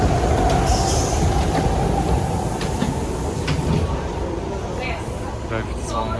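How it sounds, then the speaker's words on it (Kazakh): A Brussels metro train pulls into the station, a loud, close, continuous rumble of wheels on rail with faint squeals and clicks above it, and people talking nearby. "Метросы келіп жетті"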